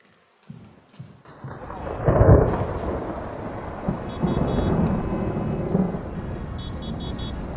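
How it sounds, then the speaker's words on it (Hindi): Heavy rain hisses steadily while a deep thunder rumble rolls in and swells, preceded by a few sharp knocks, with faint tones and light movement underneath. "बारिश हो रही है।"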